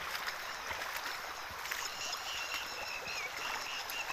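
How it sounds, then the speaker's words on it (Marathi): Rainwater flowing across a flooded road, a steady hissing rush of moving water, continuous and even in level with no voices. "संपूर्ण रस्ता भरून पाणी चाललंय."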